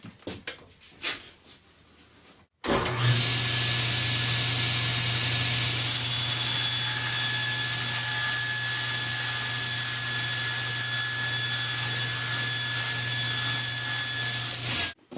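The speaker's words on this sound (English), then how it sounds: "The hardboard is a little tight in the frame after I've cut it on the table saw" A table saw cutting a hardboard panel in a jig, the blade starting up abruptly and then whining steadily and loudly through a long, continuous cut.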